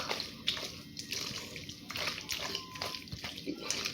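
A whole can of milk poured into a dish during home cooking, a continuous soft liquid gurgle and splash with a few drips, close and fairly quiet.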